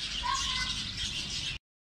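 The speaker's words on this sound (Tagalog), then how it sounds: "Ang cute na mga ibon! Ayan guys, kulay green at saka yellow." Green and yellow birds chirp in a park in Matsusaka, a steady bright twittering close by that fills the short clip without any talk.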